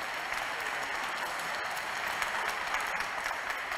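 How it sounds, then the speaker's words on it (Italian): Congregation applause during a Mass honoring the Venerable Francesco Convertini, a steady, moderately distant wash of many hands clapping with no break. "un applauso."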